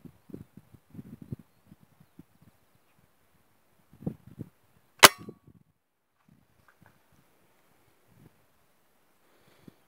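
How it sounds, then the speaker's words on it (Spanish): A single sharp rifle shot, fired at ducks roughly 50 to 65 metres away outdoors, cracks loudly near the middle, set among quiet rustling and faint low thumps before and after. "Ya, este es un rifle"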